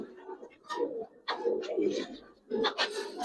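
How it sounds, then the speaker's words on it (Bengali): Silver racer pigeons coo softly in a few close, low, throaty bursts, with a voice murmuring faintly alongside them. "দেখেন কবুতর দেখেন"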